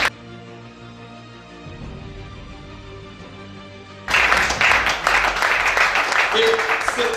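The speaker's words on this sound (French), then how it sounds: "Acclame ça." A church congregation at a Gabonese worship service bursts into loud, sustained applause partway through, after a stretch of held keyboard tones and voice, and the clapping continues to the end.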